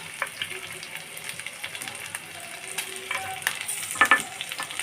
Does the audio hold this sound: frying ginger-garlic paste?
yes